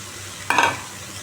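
Snake gourd pieces dropped into a hot pan of oil with poppy seeds and green chilli, a sudden loud sizzle that flares up and fades within a fraction of a second, no talking.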